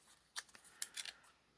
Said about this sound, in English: I have found these little jaggedy scissors